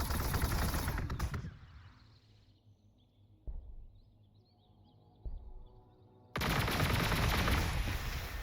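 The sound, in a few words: gunfire shot in video game Warhammer 40,000: Gladius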